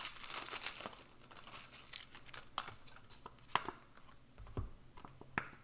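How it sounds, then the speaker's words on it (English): Plastic wrapper on a pack of cards crinkles and tears up close, a steady run of soft, irregular crackles with a few sharper snaps and no talking. "let's go ahead and open this pack of cards"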